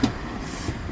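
A local train rolls past through a small Japanese mountain town, giving a steady, close rumble with faint rail noise over one continuous second.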